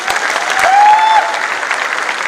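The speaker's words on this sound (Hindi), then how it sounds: "जोरदार तालियां होनी चाहिए इनके लिए" Loud, dense applause from an audience at a network marketing company event, with a brief whistle rising over the sustained clapping.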